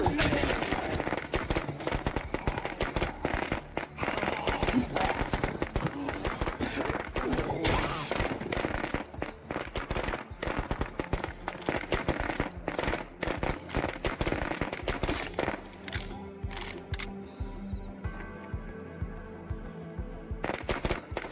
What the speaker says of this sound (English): Where's my firecrackers at?